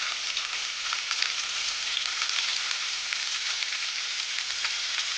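Garlic and onion sautéing in hot oil for pancit gisado, a steady, close, bright sizzle and crackle that holds evenly throughout with no talk.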